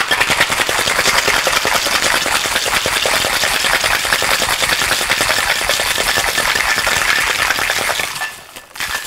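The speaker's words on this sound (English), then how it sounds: "shake it vigorously over ice." Cocktail shaker shaken vigorously with ice, a loud, fast, steady rattle of ice against metal that runs continuously for about eight seconds before stopping abruptly.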